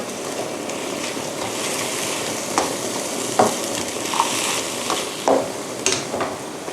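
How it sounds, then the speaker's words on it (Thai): Vegetables stir-frying in a pan for a vegetarian tofu dish, a steady dense sizzle with occasional scrapes and taps of stirring, close and moderately loud, with no talk. "ก็เราจะใช้เวลาสักพักหนึ่งจนกว่าผักจะสุกทั่วนะคะ"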